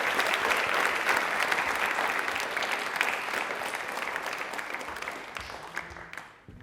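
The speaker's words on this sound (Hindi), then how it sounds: "तो एक बार तालियां नमन सर के लिए जोरदार होनी चाहिए प्लीज।" A studio audience on a televised quiz programme applauds a welcomed guest, a thick continuous wash of clapping that holds steady then tapers off toward the end.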